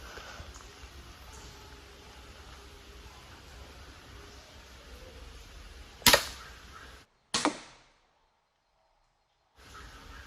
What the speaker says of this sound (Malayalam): നമ്മൾ ആദ്യം ഷൂട്ട് ചെയ്തത് മാറിപ്പോയി ലക്ഷ്യത്തെത്തിയില്ല